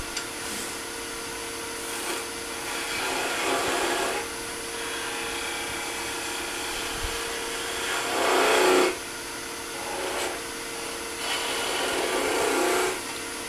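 A wood turning tool cuts a sphere on a lathe, giving a continuous scraping hiss over a steady motor hum, with periodic louder rasping swells as the blade bites the spinning wood.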